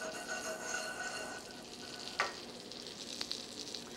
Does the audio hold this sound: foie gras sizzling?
yes